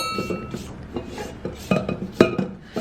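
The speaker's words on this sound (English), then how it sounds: "I'm just gonna scrape the sides of the bowl" A spatula scrapes around the sides of a mixing bowl holding creamed sugar and butter, giving a series of close, uneven scrapes and light knocks against the bowl that grow a little louder toward the end.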